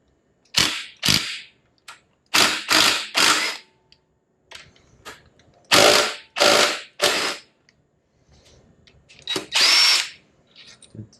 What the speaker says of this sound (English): I'm just doing it with a rattle gun.